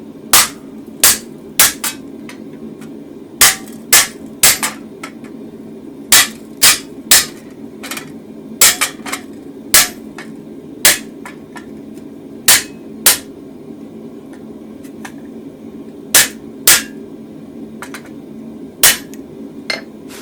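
Hammer blows driving a chisel cut into hot steel while hand forging a toasting fork, heard as loud, sharp, ringing metallic strikes, some single and some in quick pairs, spread irregularly over a steady low hum.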